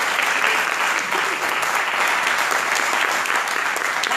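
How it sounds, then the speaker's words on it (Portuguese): A church congregation applauds at a Portuguese-language sermon, a steady, dense wash of clapping from many hands that holds evenly throughout with no voices standing out. "Você pode aplaudir ao Senhor?"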